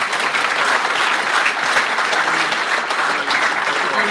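A room of rally enthusiasts at a 2018 rally forum claps for a guest on stage, dense steady applause filling the space throughout, loud and close, with no clear talk over it.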